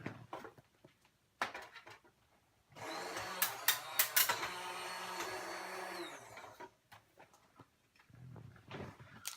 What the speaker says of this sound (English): I'm going to move him to my die cut machine